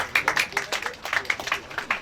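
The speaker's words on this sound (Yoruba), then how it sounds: "Ẹ pàtẹ́wọ́ fún pásítọ̀." A church congregation at a posthumous birthday celebration claps for the pastor, with sharp, uneven hand claps close by and blending into a short burst of applause, and faint voices mixed in.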